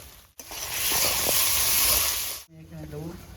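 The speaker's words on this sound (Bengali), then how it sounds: "এবারে এখানে আমি আদা, রসুন আর কাঁচা লঙ্কা টুকরো দিয়ে দিই।" Ginger, garlic and green chilies dropped into frying onions for a potato chicken curry, setting off a sudden loud hissing sizzle that swells and holds for about two seconds, then cuts out as a voice begins talking.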